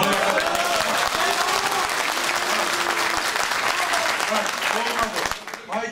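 Crowd at an outdoor public meeting in Kula about a marketplace claps steadily and loudly throughout, dense applause with mixed voices underneath, tapering off at the very end.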